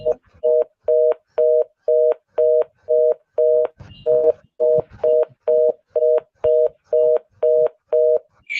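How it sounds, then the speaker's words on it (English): A telephone busy signal repeats steady, evenly spaced beeps about twice per second for several seconds, loud and clear, with a short break partway through. "That's why it was called the busy signal"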